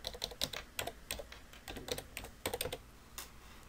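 Computer keyboard typing as a new folder name is entered in Outlook 2010 on a PC: quick irregular bursts of close key clicks with short pauses, alone without talk.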